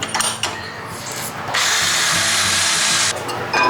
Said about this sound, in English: We're gonna flip it over and drill that pilot hole